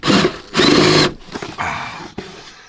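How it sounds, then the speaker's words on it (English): A power driver sets screws into a fitting on a new van during a roadside repair, with two loud close whirring bursts followed by shorter, fainter driving sounds and a click. "See if we can get a couple of screws in here,"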